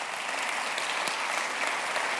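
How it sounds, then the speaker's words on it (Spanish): Steady applause from an audience at a youth Christian gathering, a dense even wash of clapping held throughout at moderate distance with no voices standing out. "Dale un aplauso si quieres."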